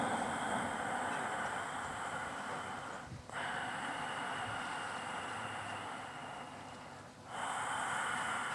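Slow, deep yoga breaths in an evening class, each long airy inhale or exhale filling the room close to the ear, with two brief pauses between breaths and no talk.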